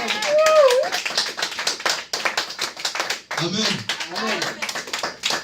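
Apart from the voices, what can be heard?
church congregation applauding for God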